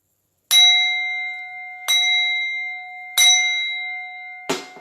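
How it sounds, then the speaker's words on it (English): A bell rings at a Pittsburgh Steelers game, struck four times at a steady pace with each loud, clear tone hanging and fading before the next, the last strike shorter and cut off. "that bell's for you"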